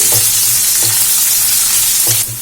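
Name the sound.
onions sautéing and stirred in hot oil with cumin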